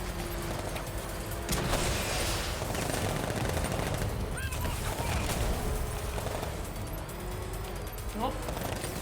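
Gunfire in the Batman Arkham Knight video game, dense and continuous: rattling bursts and shots layered over a loud, busy battle din with no pause.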